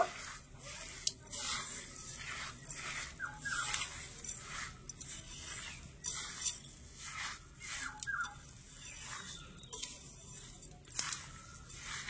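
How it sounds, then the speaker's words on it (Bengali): Sugar is stirred into chopped raw mango, giving repeated soft wet squishing and gritty scraping strokes at close range in an irregular rhythm, with no talk. "ভালো করে চিনিটা মিশিয়ে নেব।"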